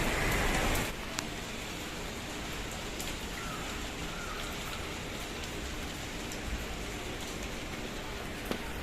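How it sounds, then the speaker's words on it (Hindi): Rain falling outdoors and picking up in intensity, a steady dense hiss of drops on surfaces filling the whole stretch with a few brief taps and knocks, no voices. "और फिर से थोड़ी सी बारिश तेज़ हो रही है"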